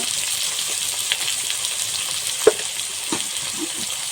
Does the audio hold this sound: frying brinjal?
yes